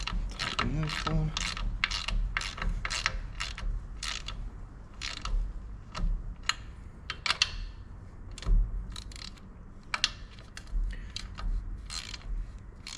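A ratchet wrench tightens a bolt on a tractor, with rapid clicking strokes repeated in quick bursts that are close and distinct, then slower spaced clicks and occasional knocks.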